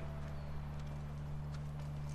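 Horse hooves clip-clop at a steady walking pace in the video game The Last of Us, heard close and continuous over a low background hum.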